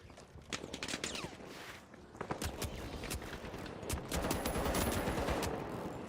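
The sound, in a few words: gunfire in a video game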